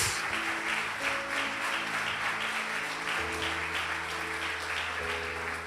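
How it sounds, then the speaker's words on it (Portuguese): Church congregation applauding during a worship service, a dense steady wash of clapping throughout, with sustained organ or keyboard tones underneath. "Pode aplaudir, irmãos, para a glória de Deus."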